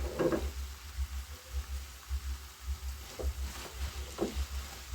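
Cabbage frying with spices in a pan, a low steady sizzle with faint crackles and occasional stirring scrapes, close and without talk.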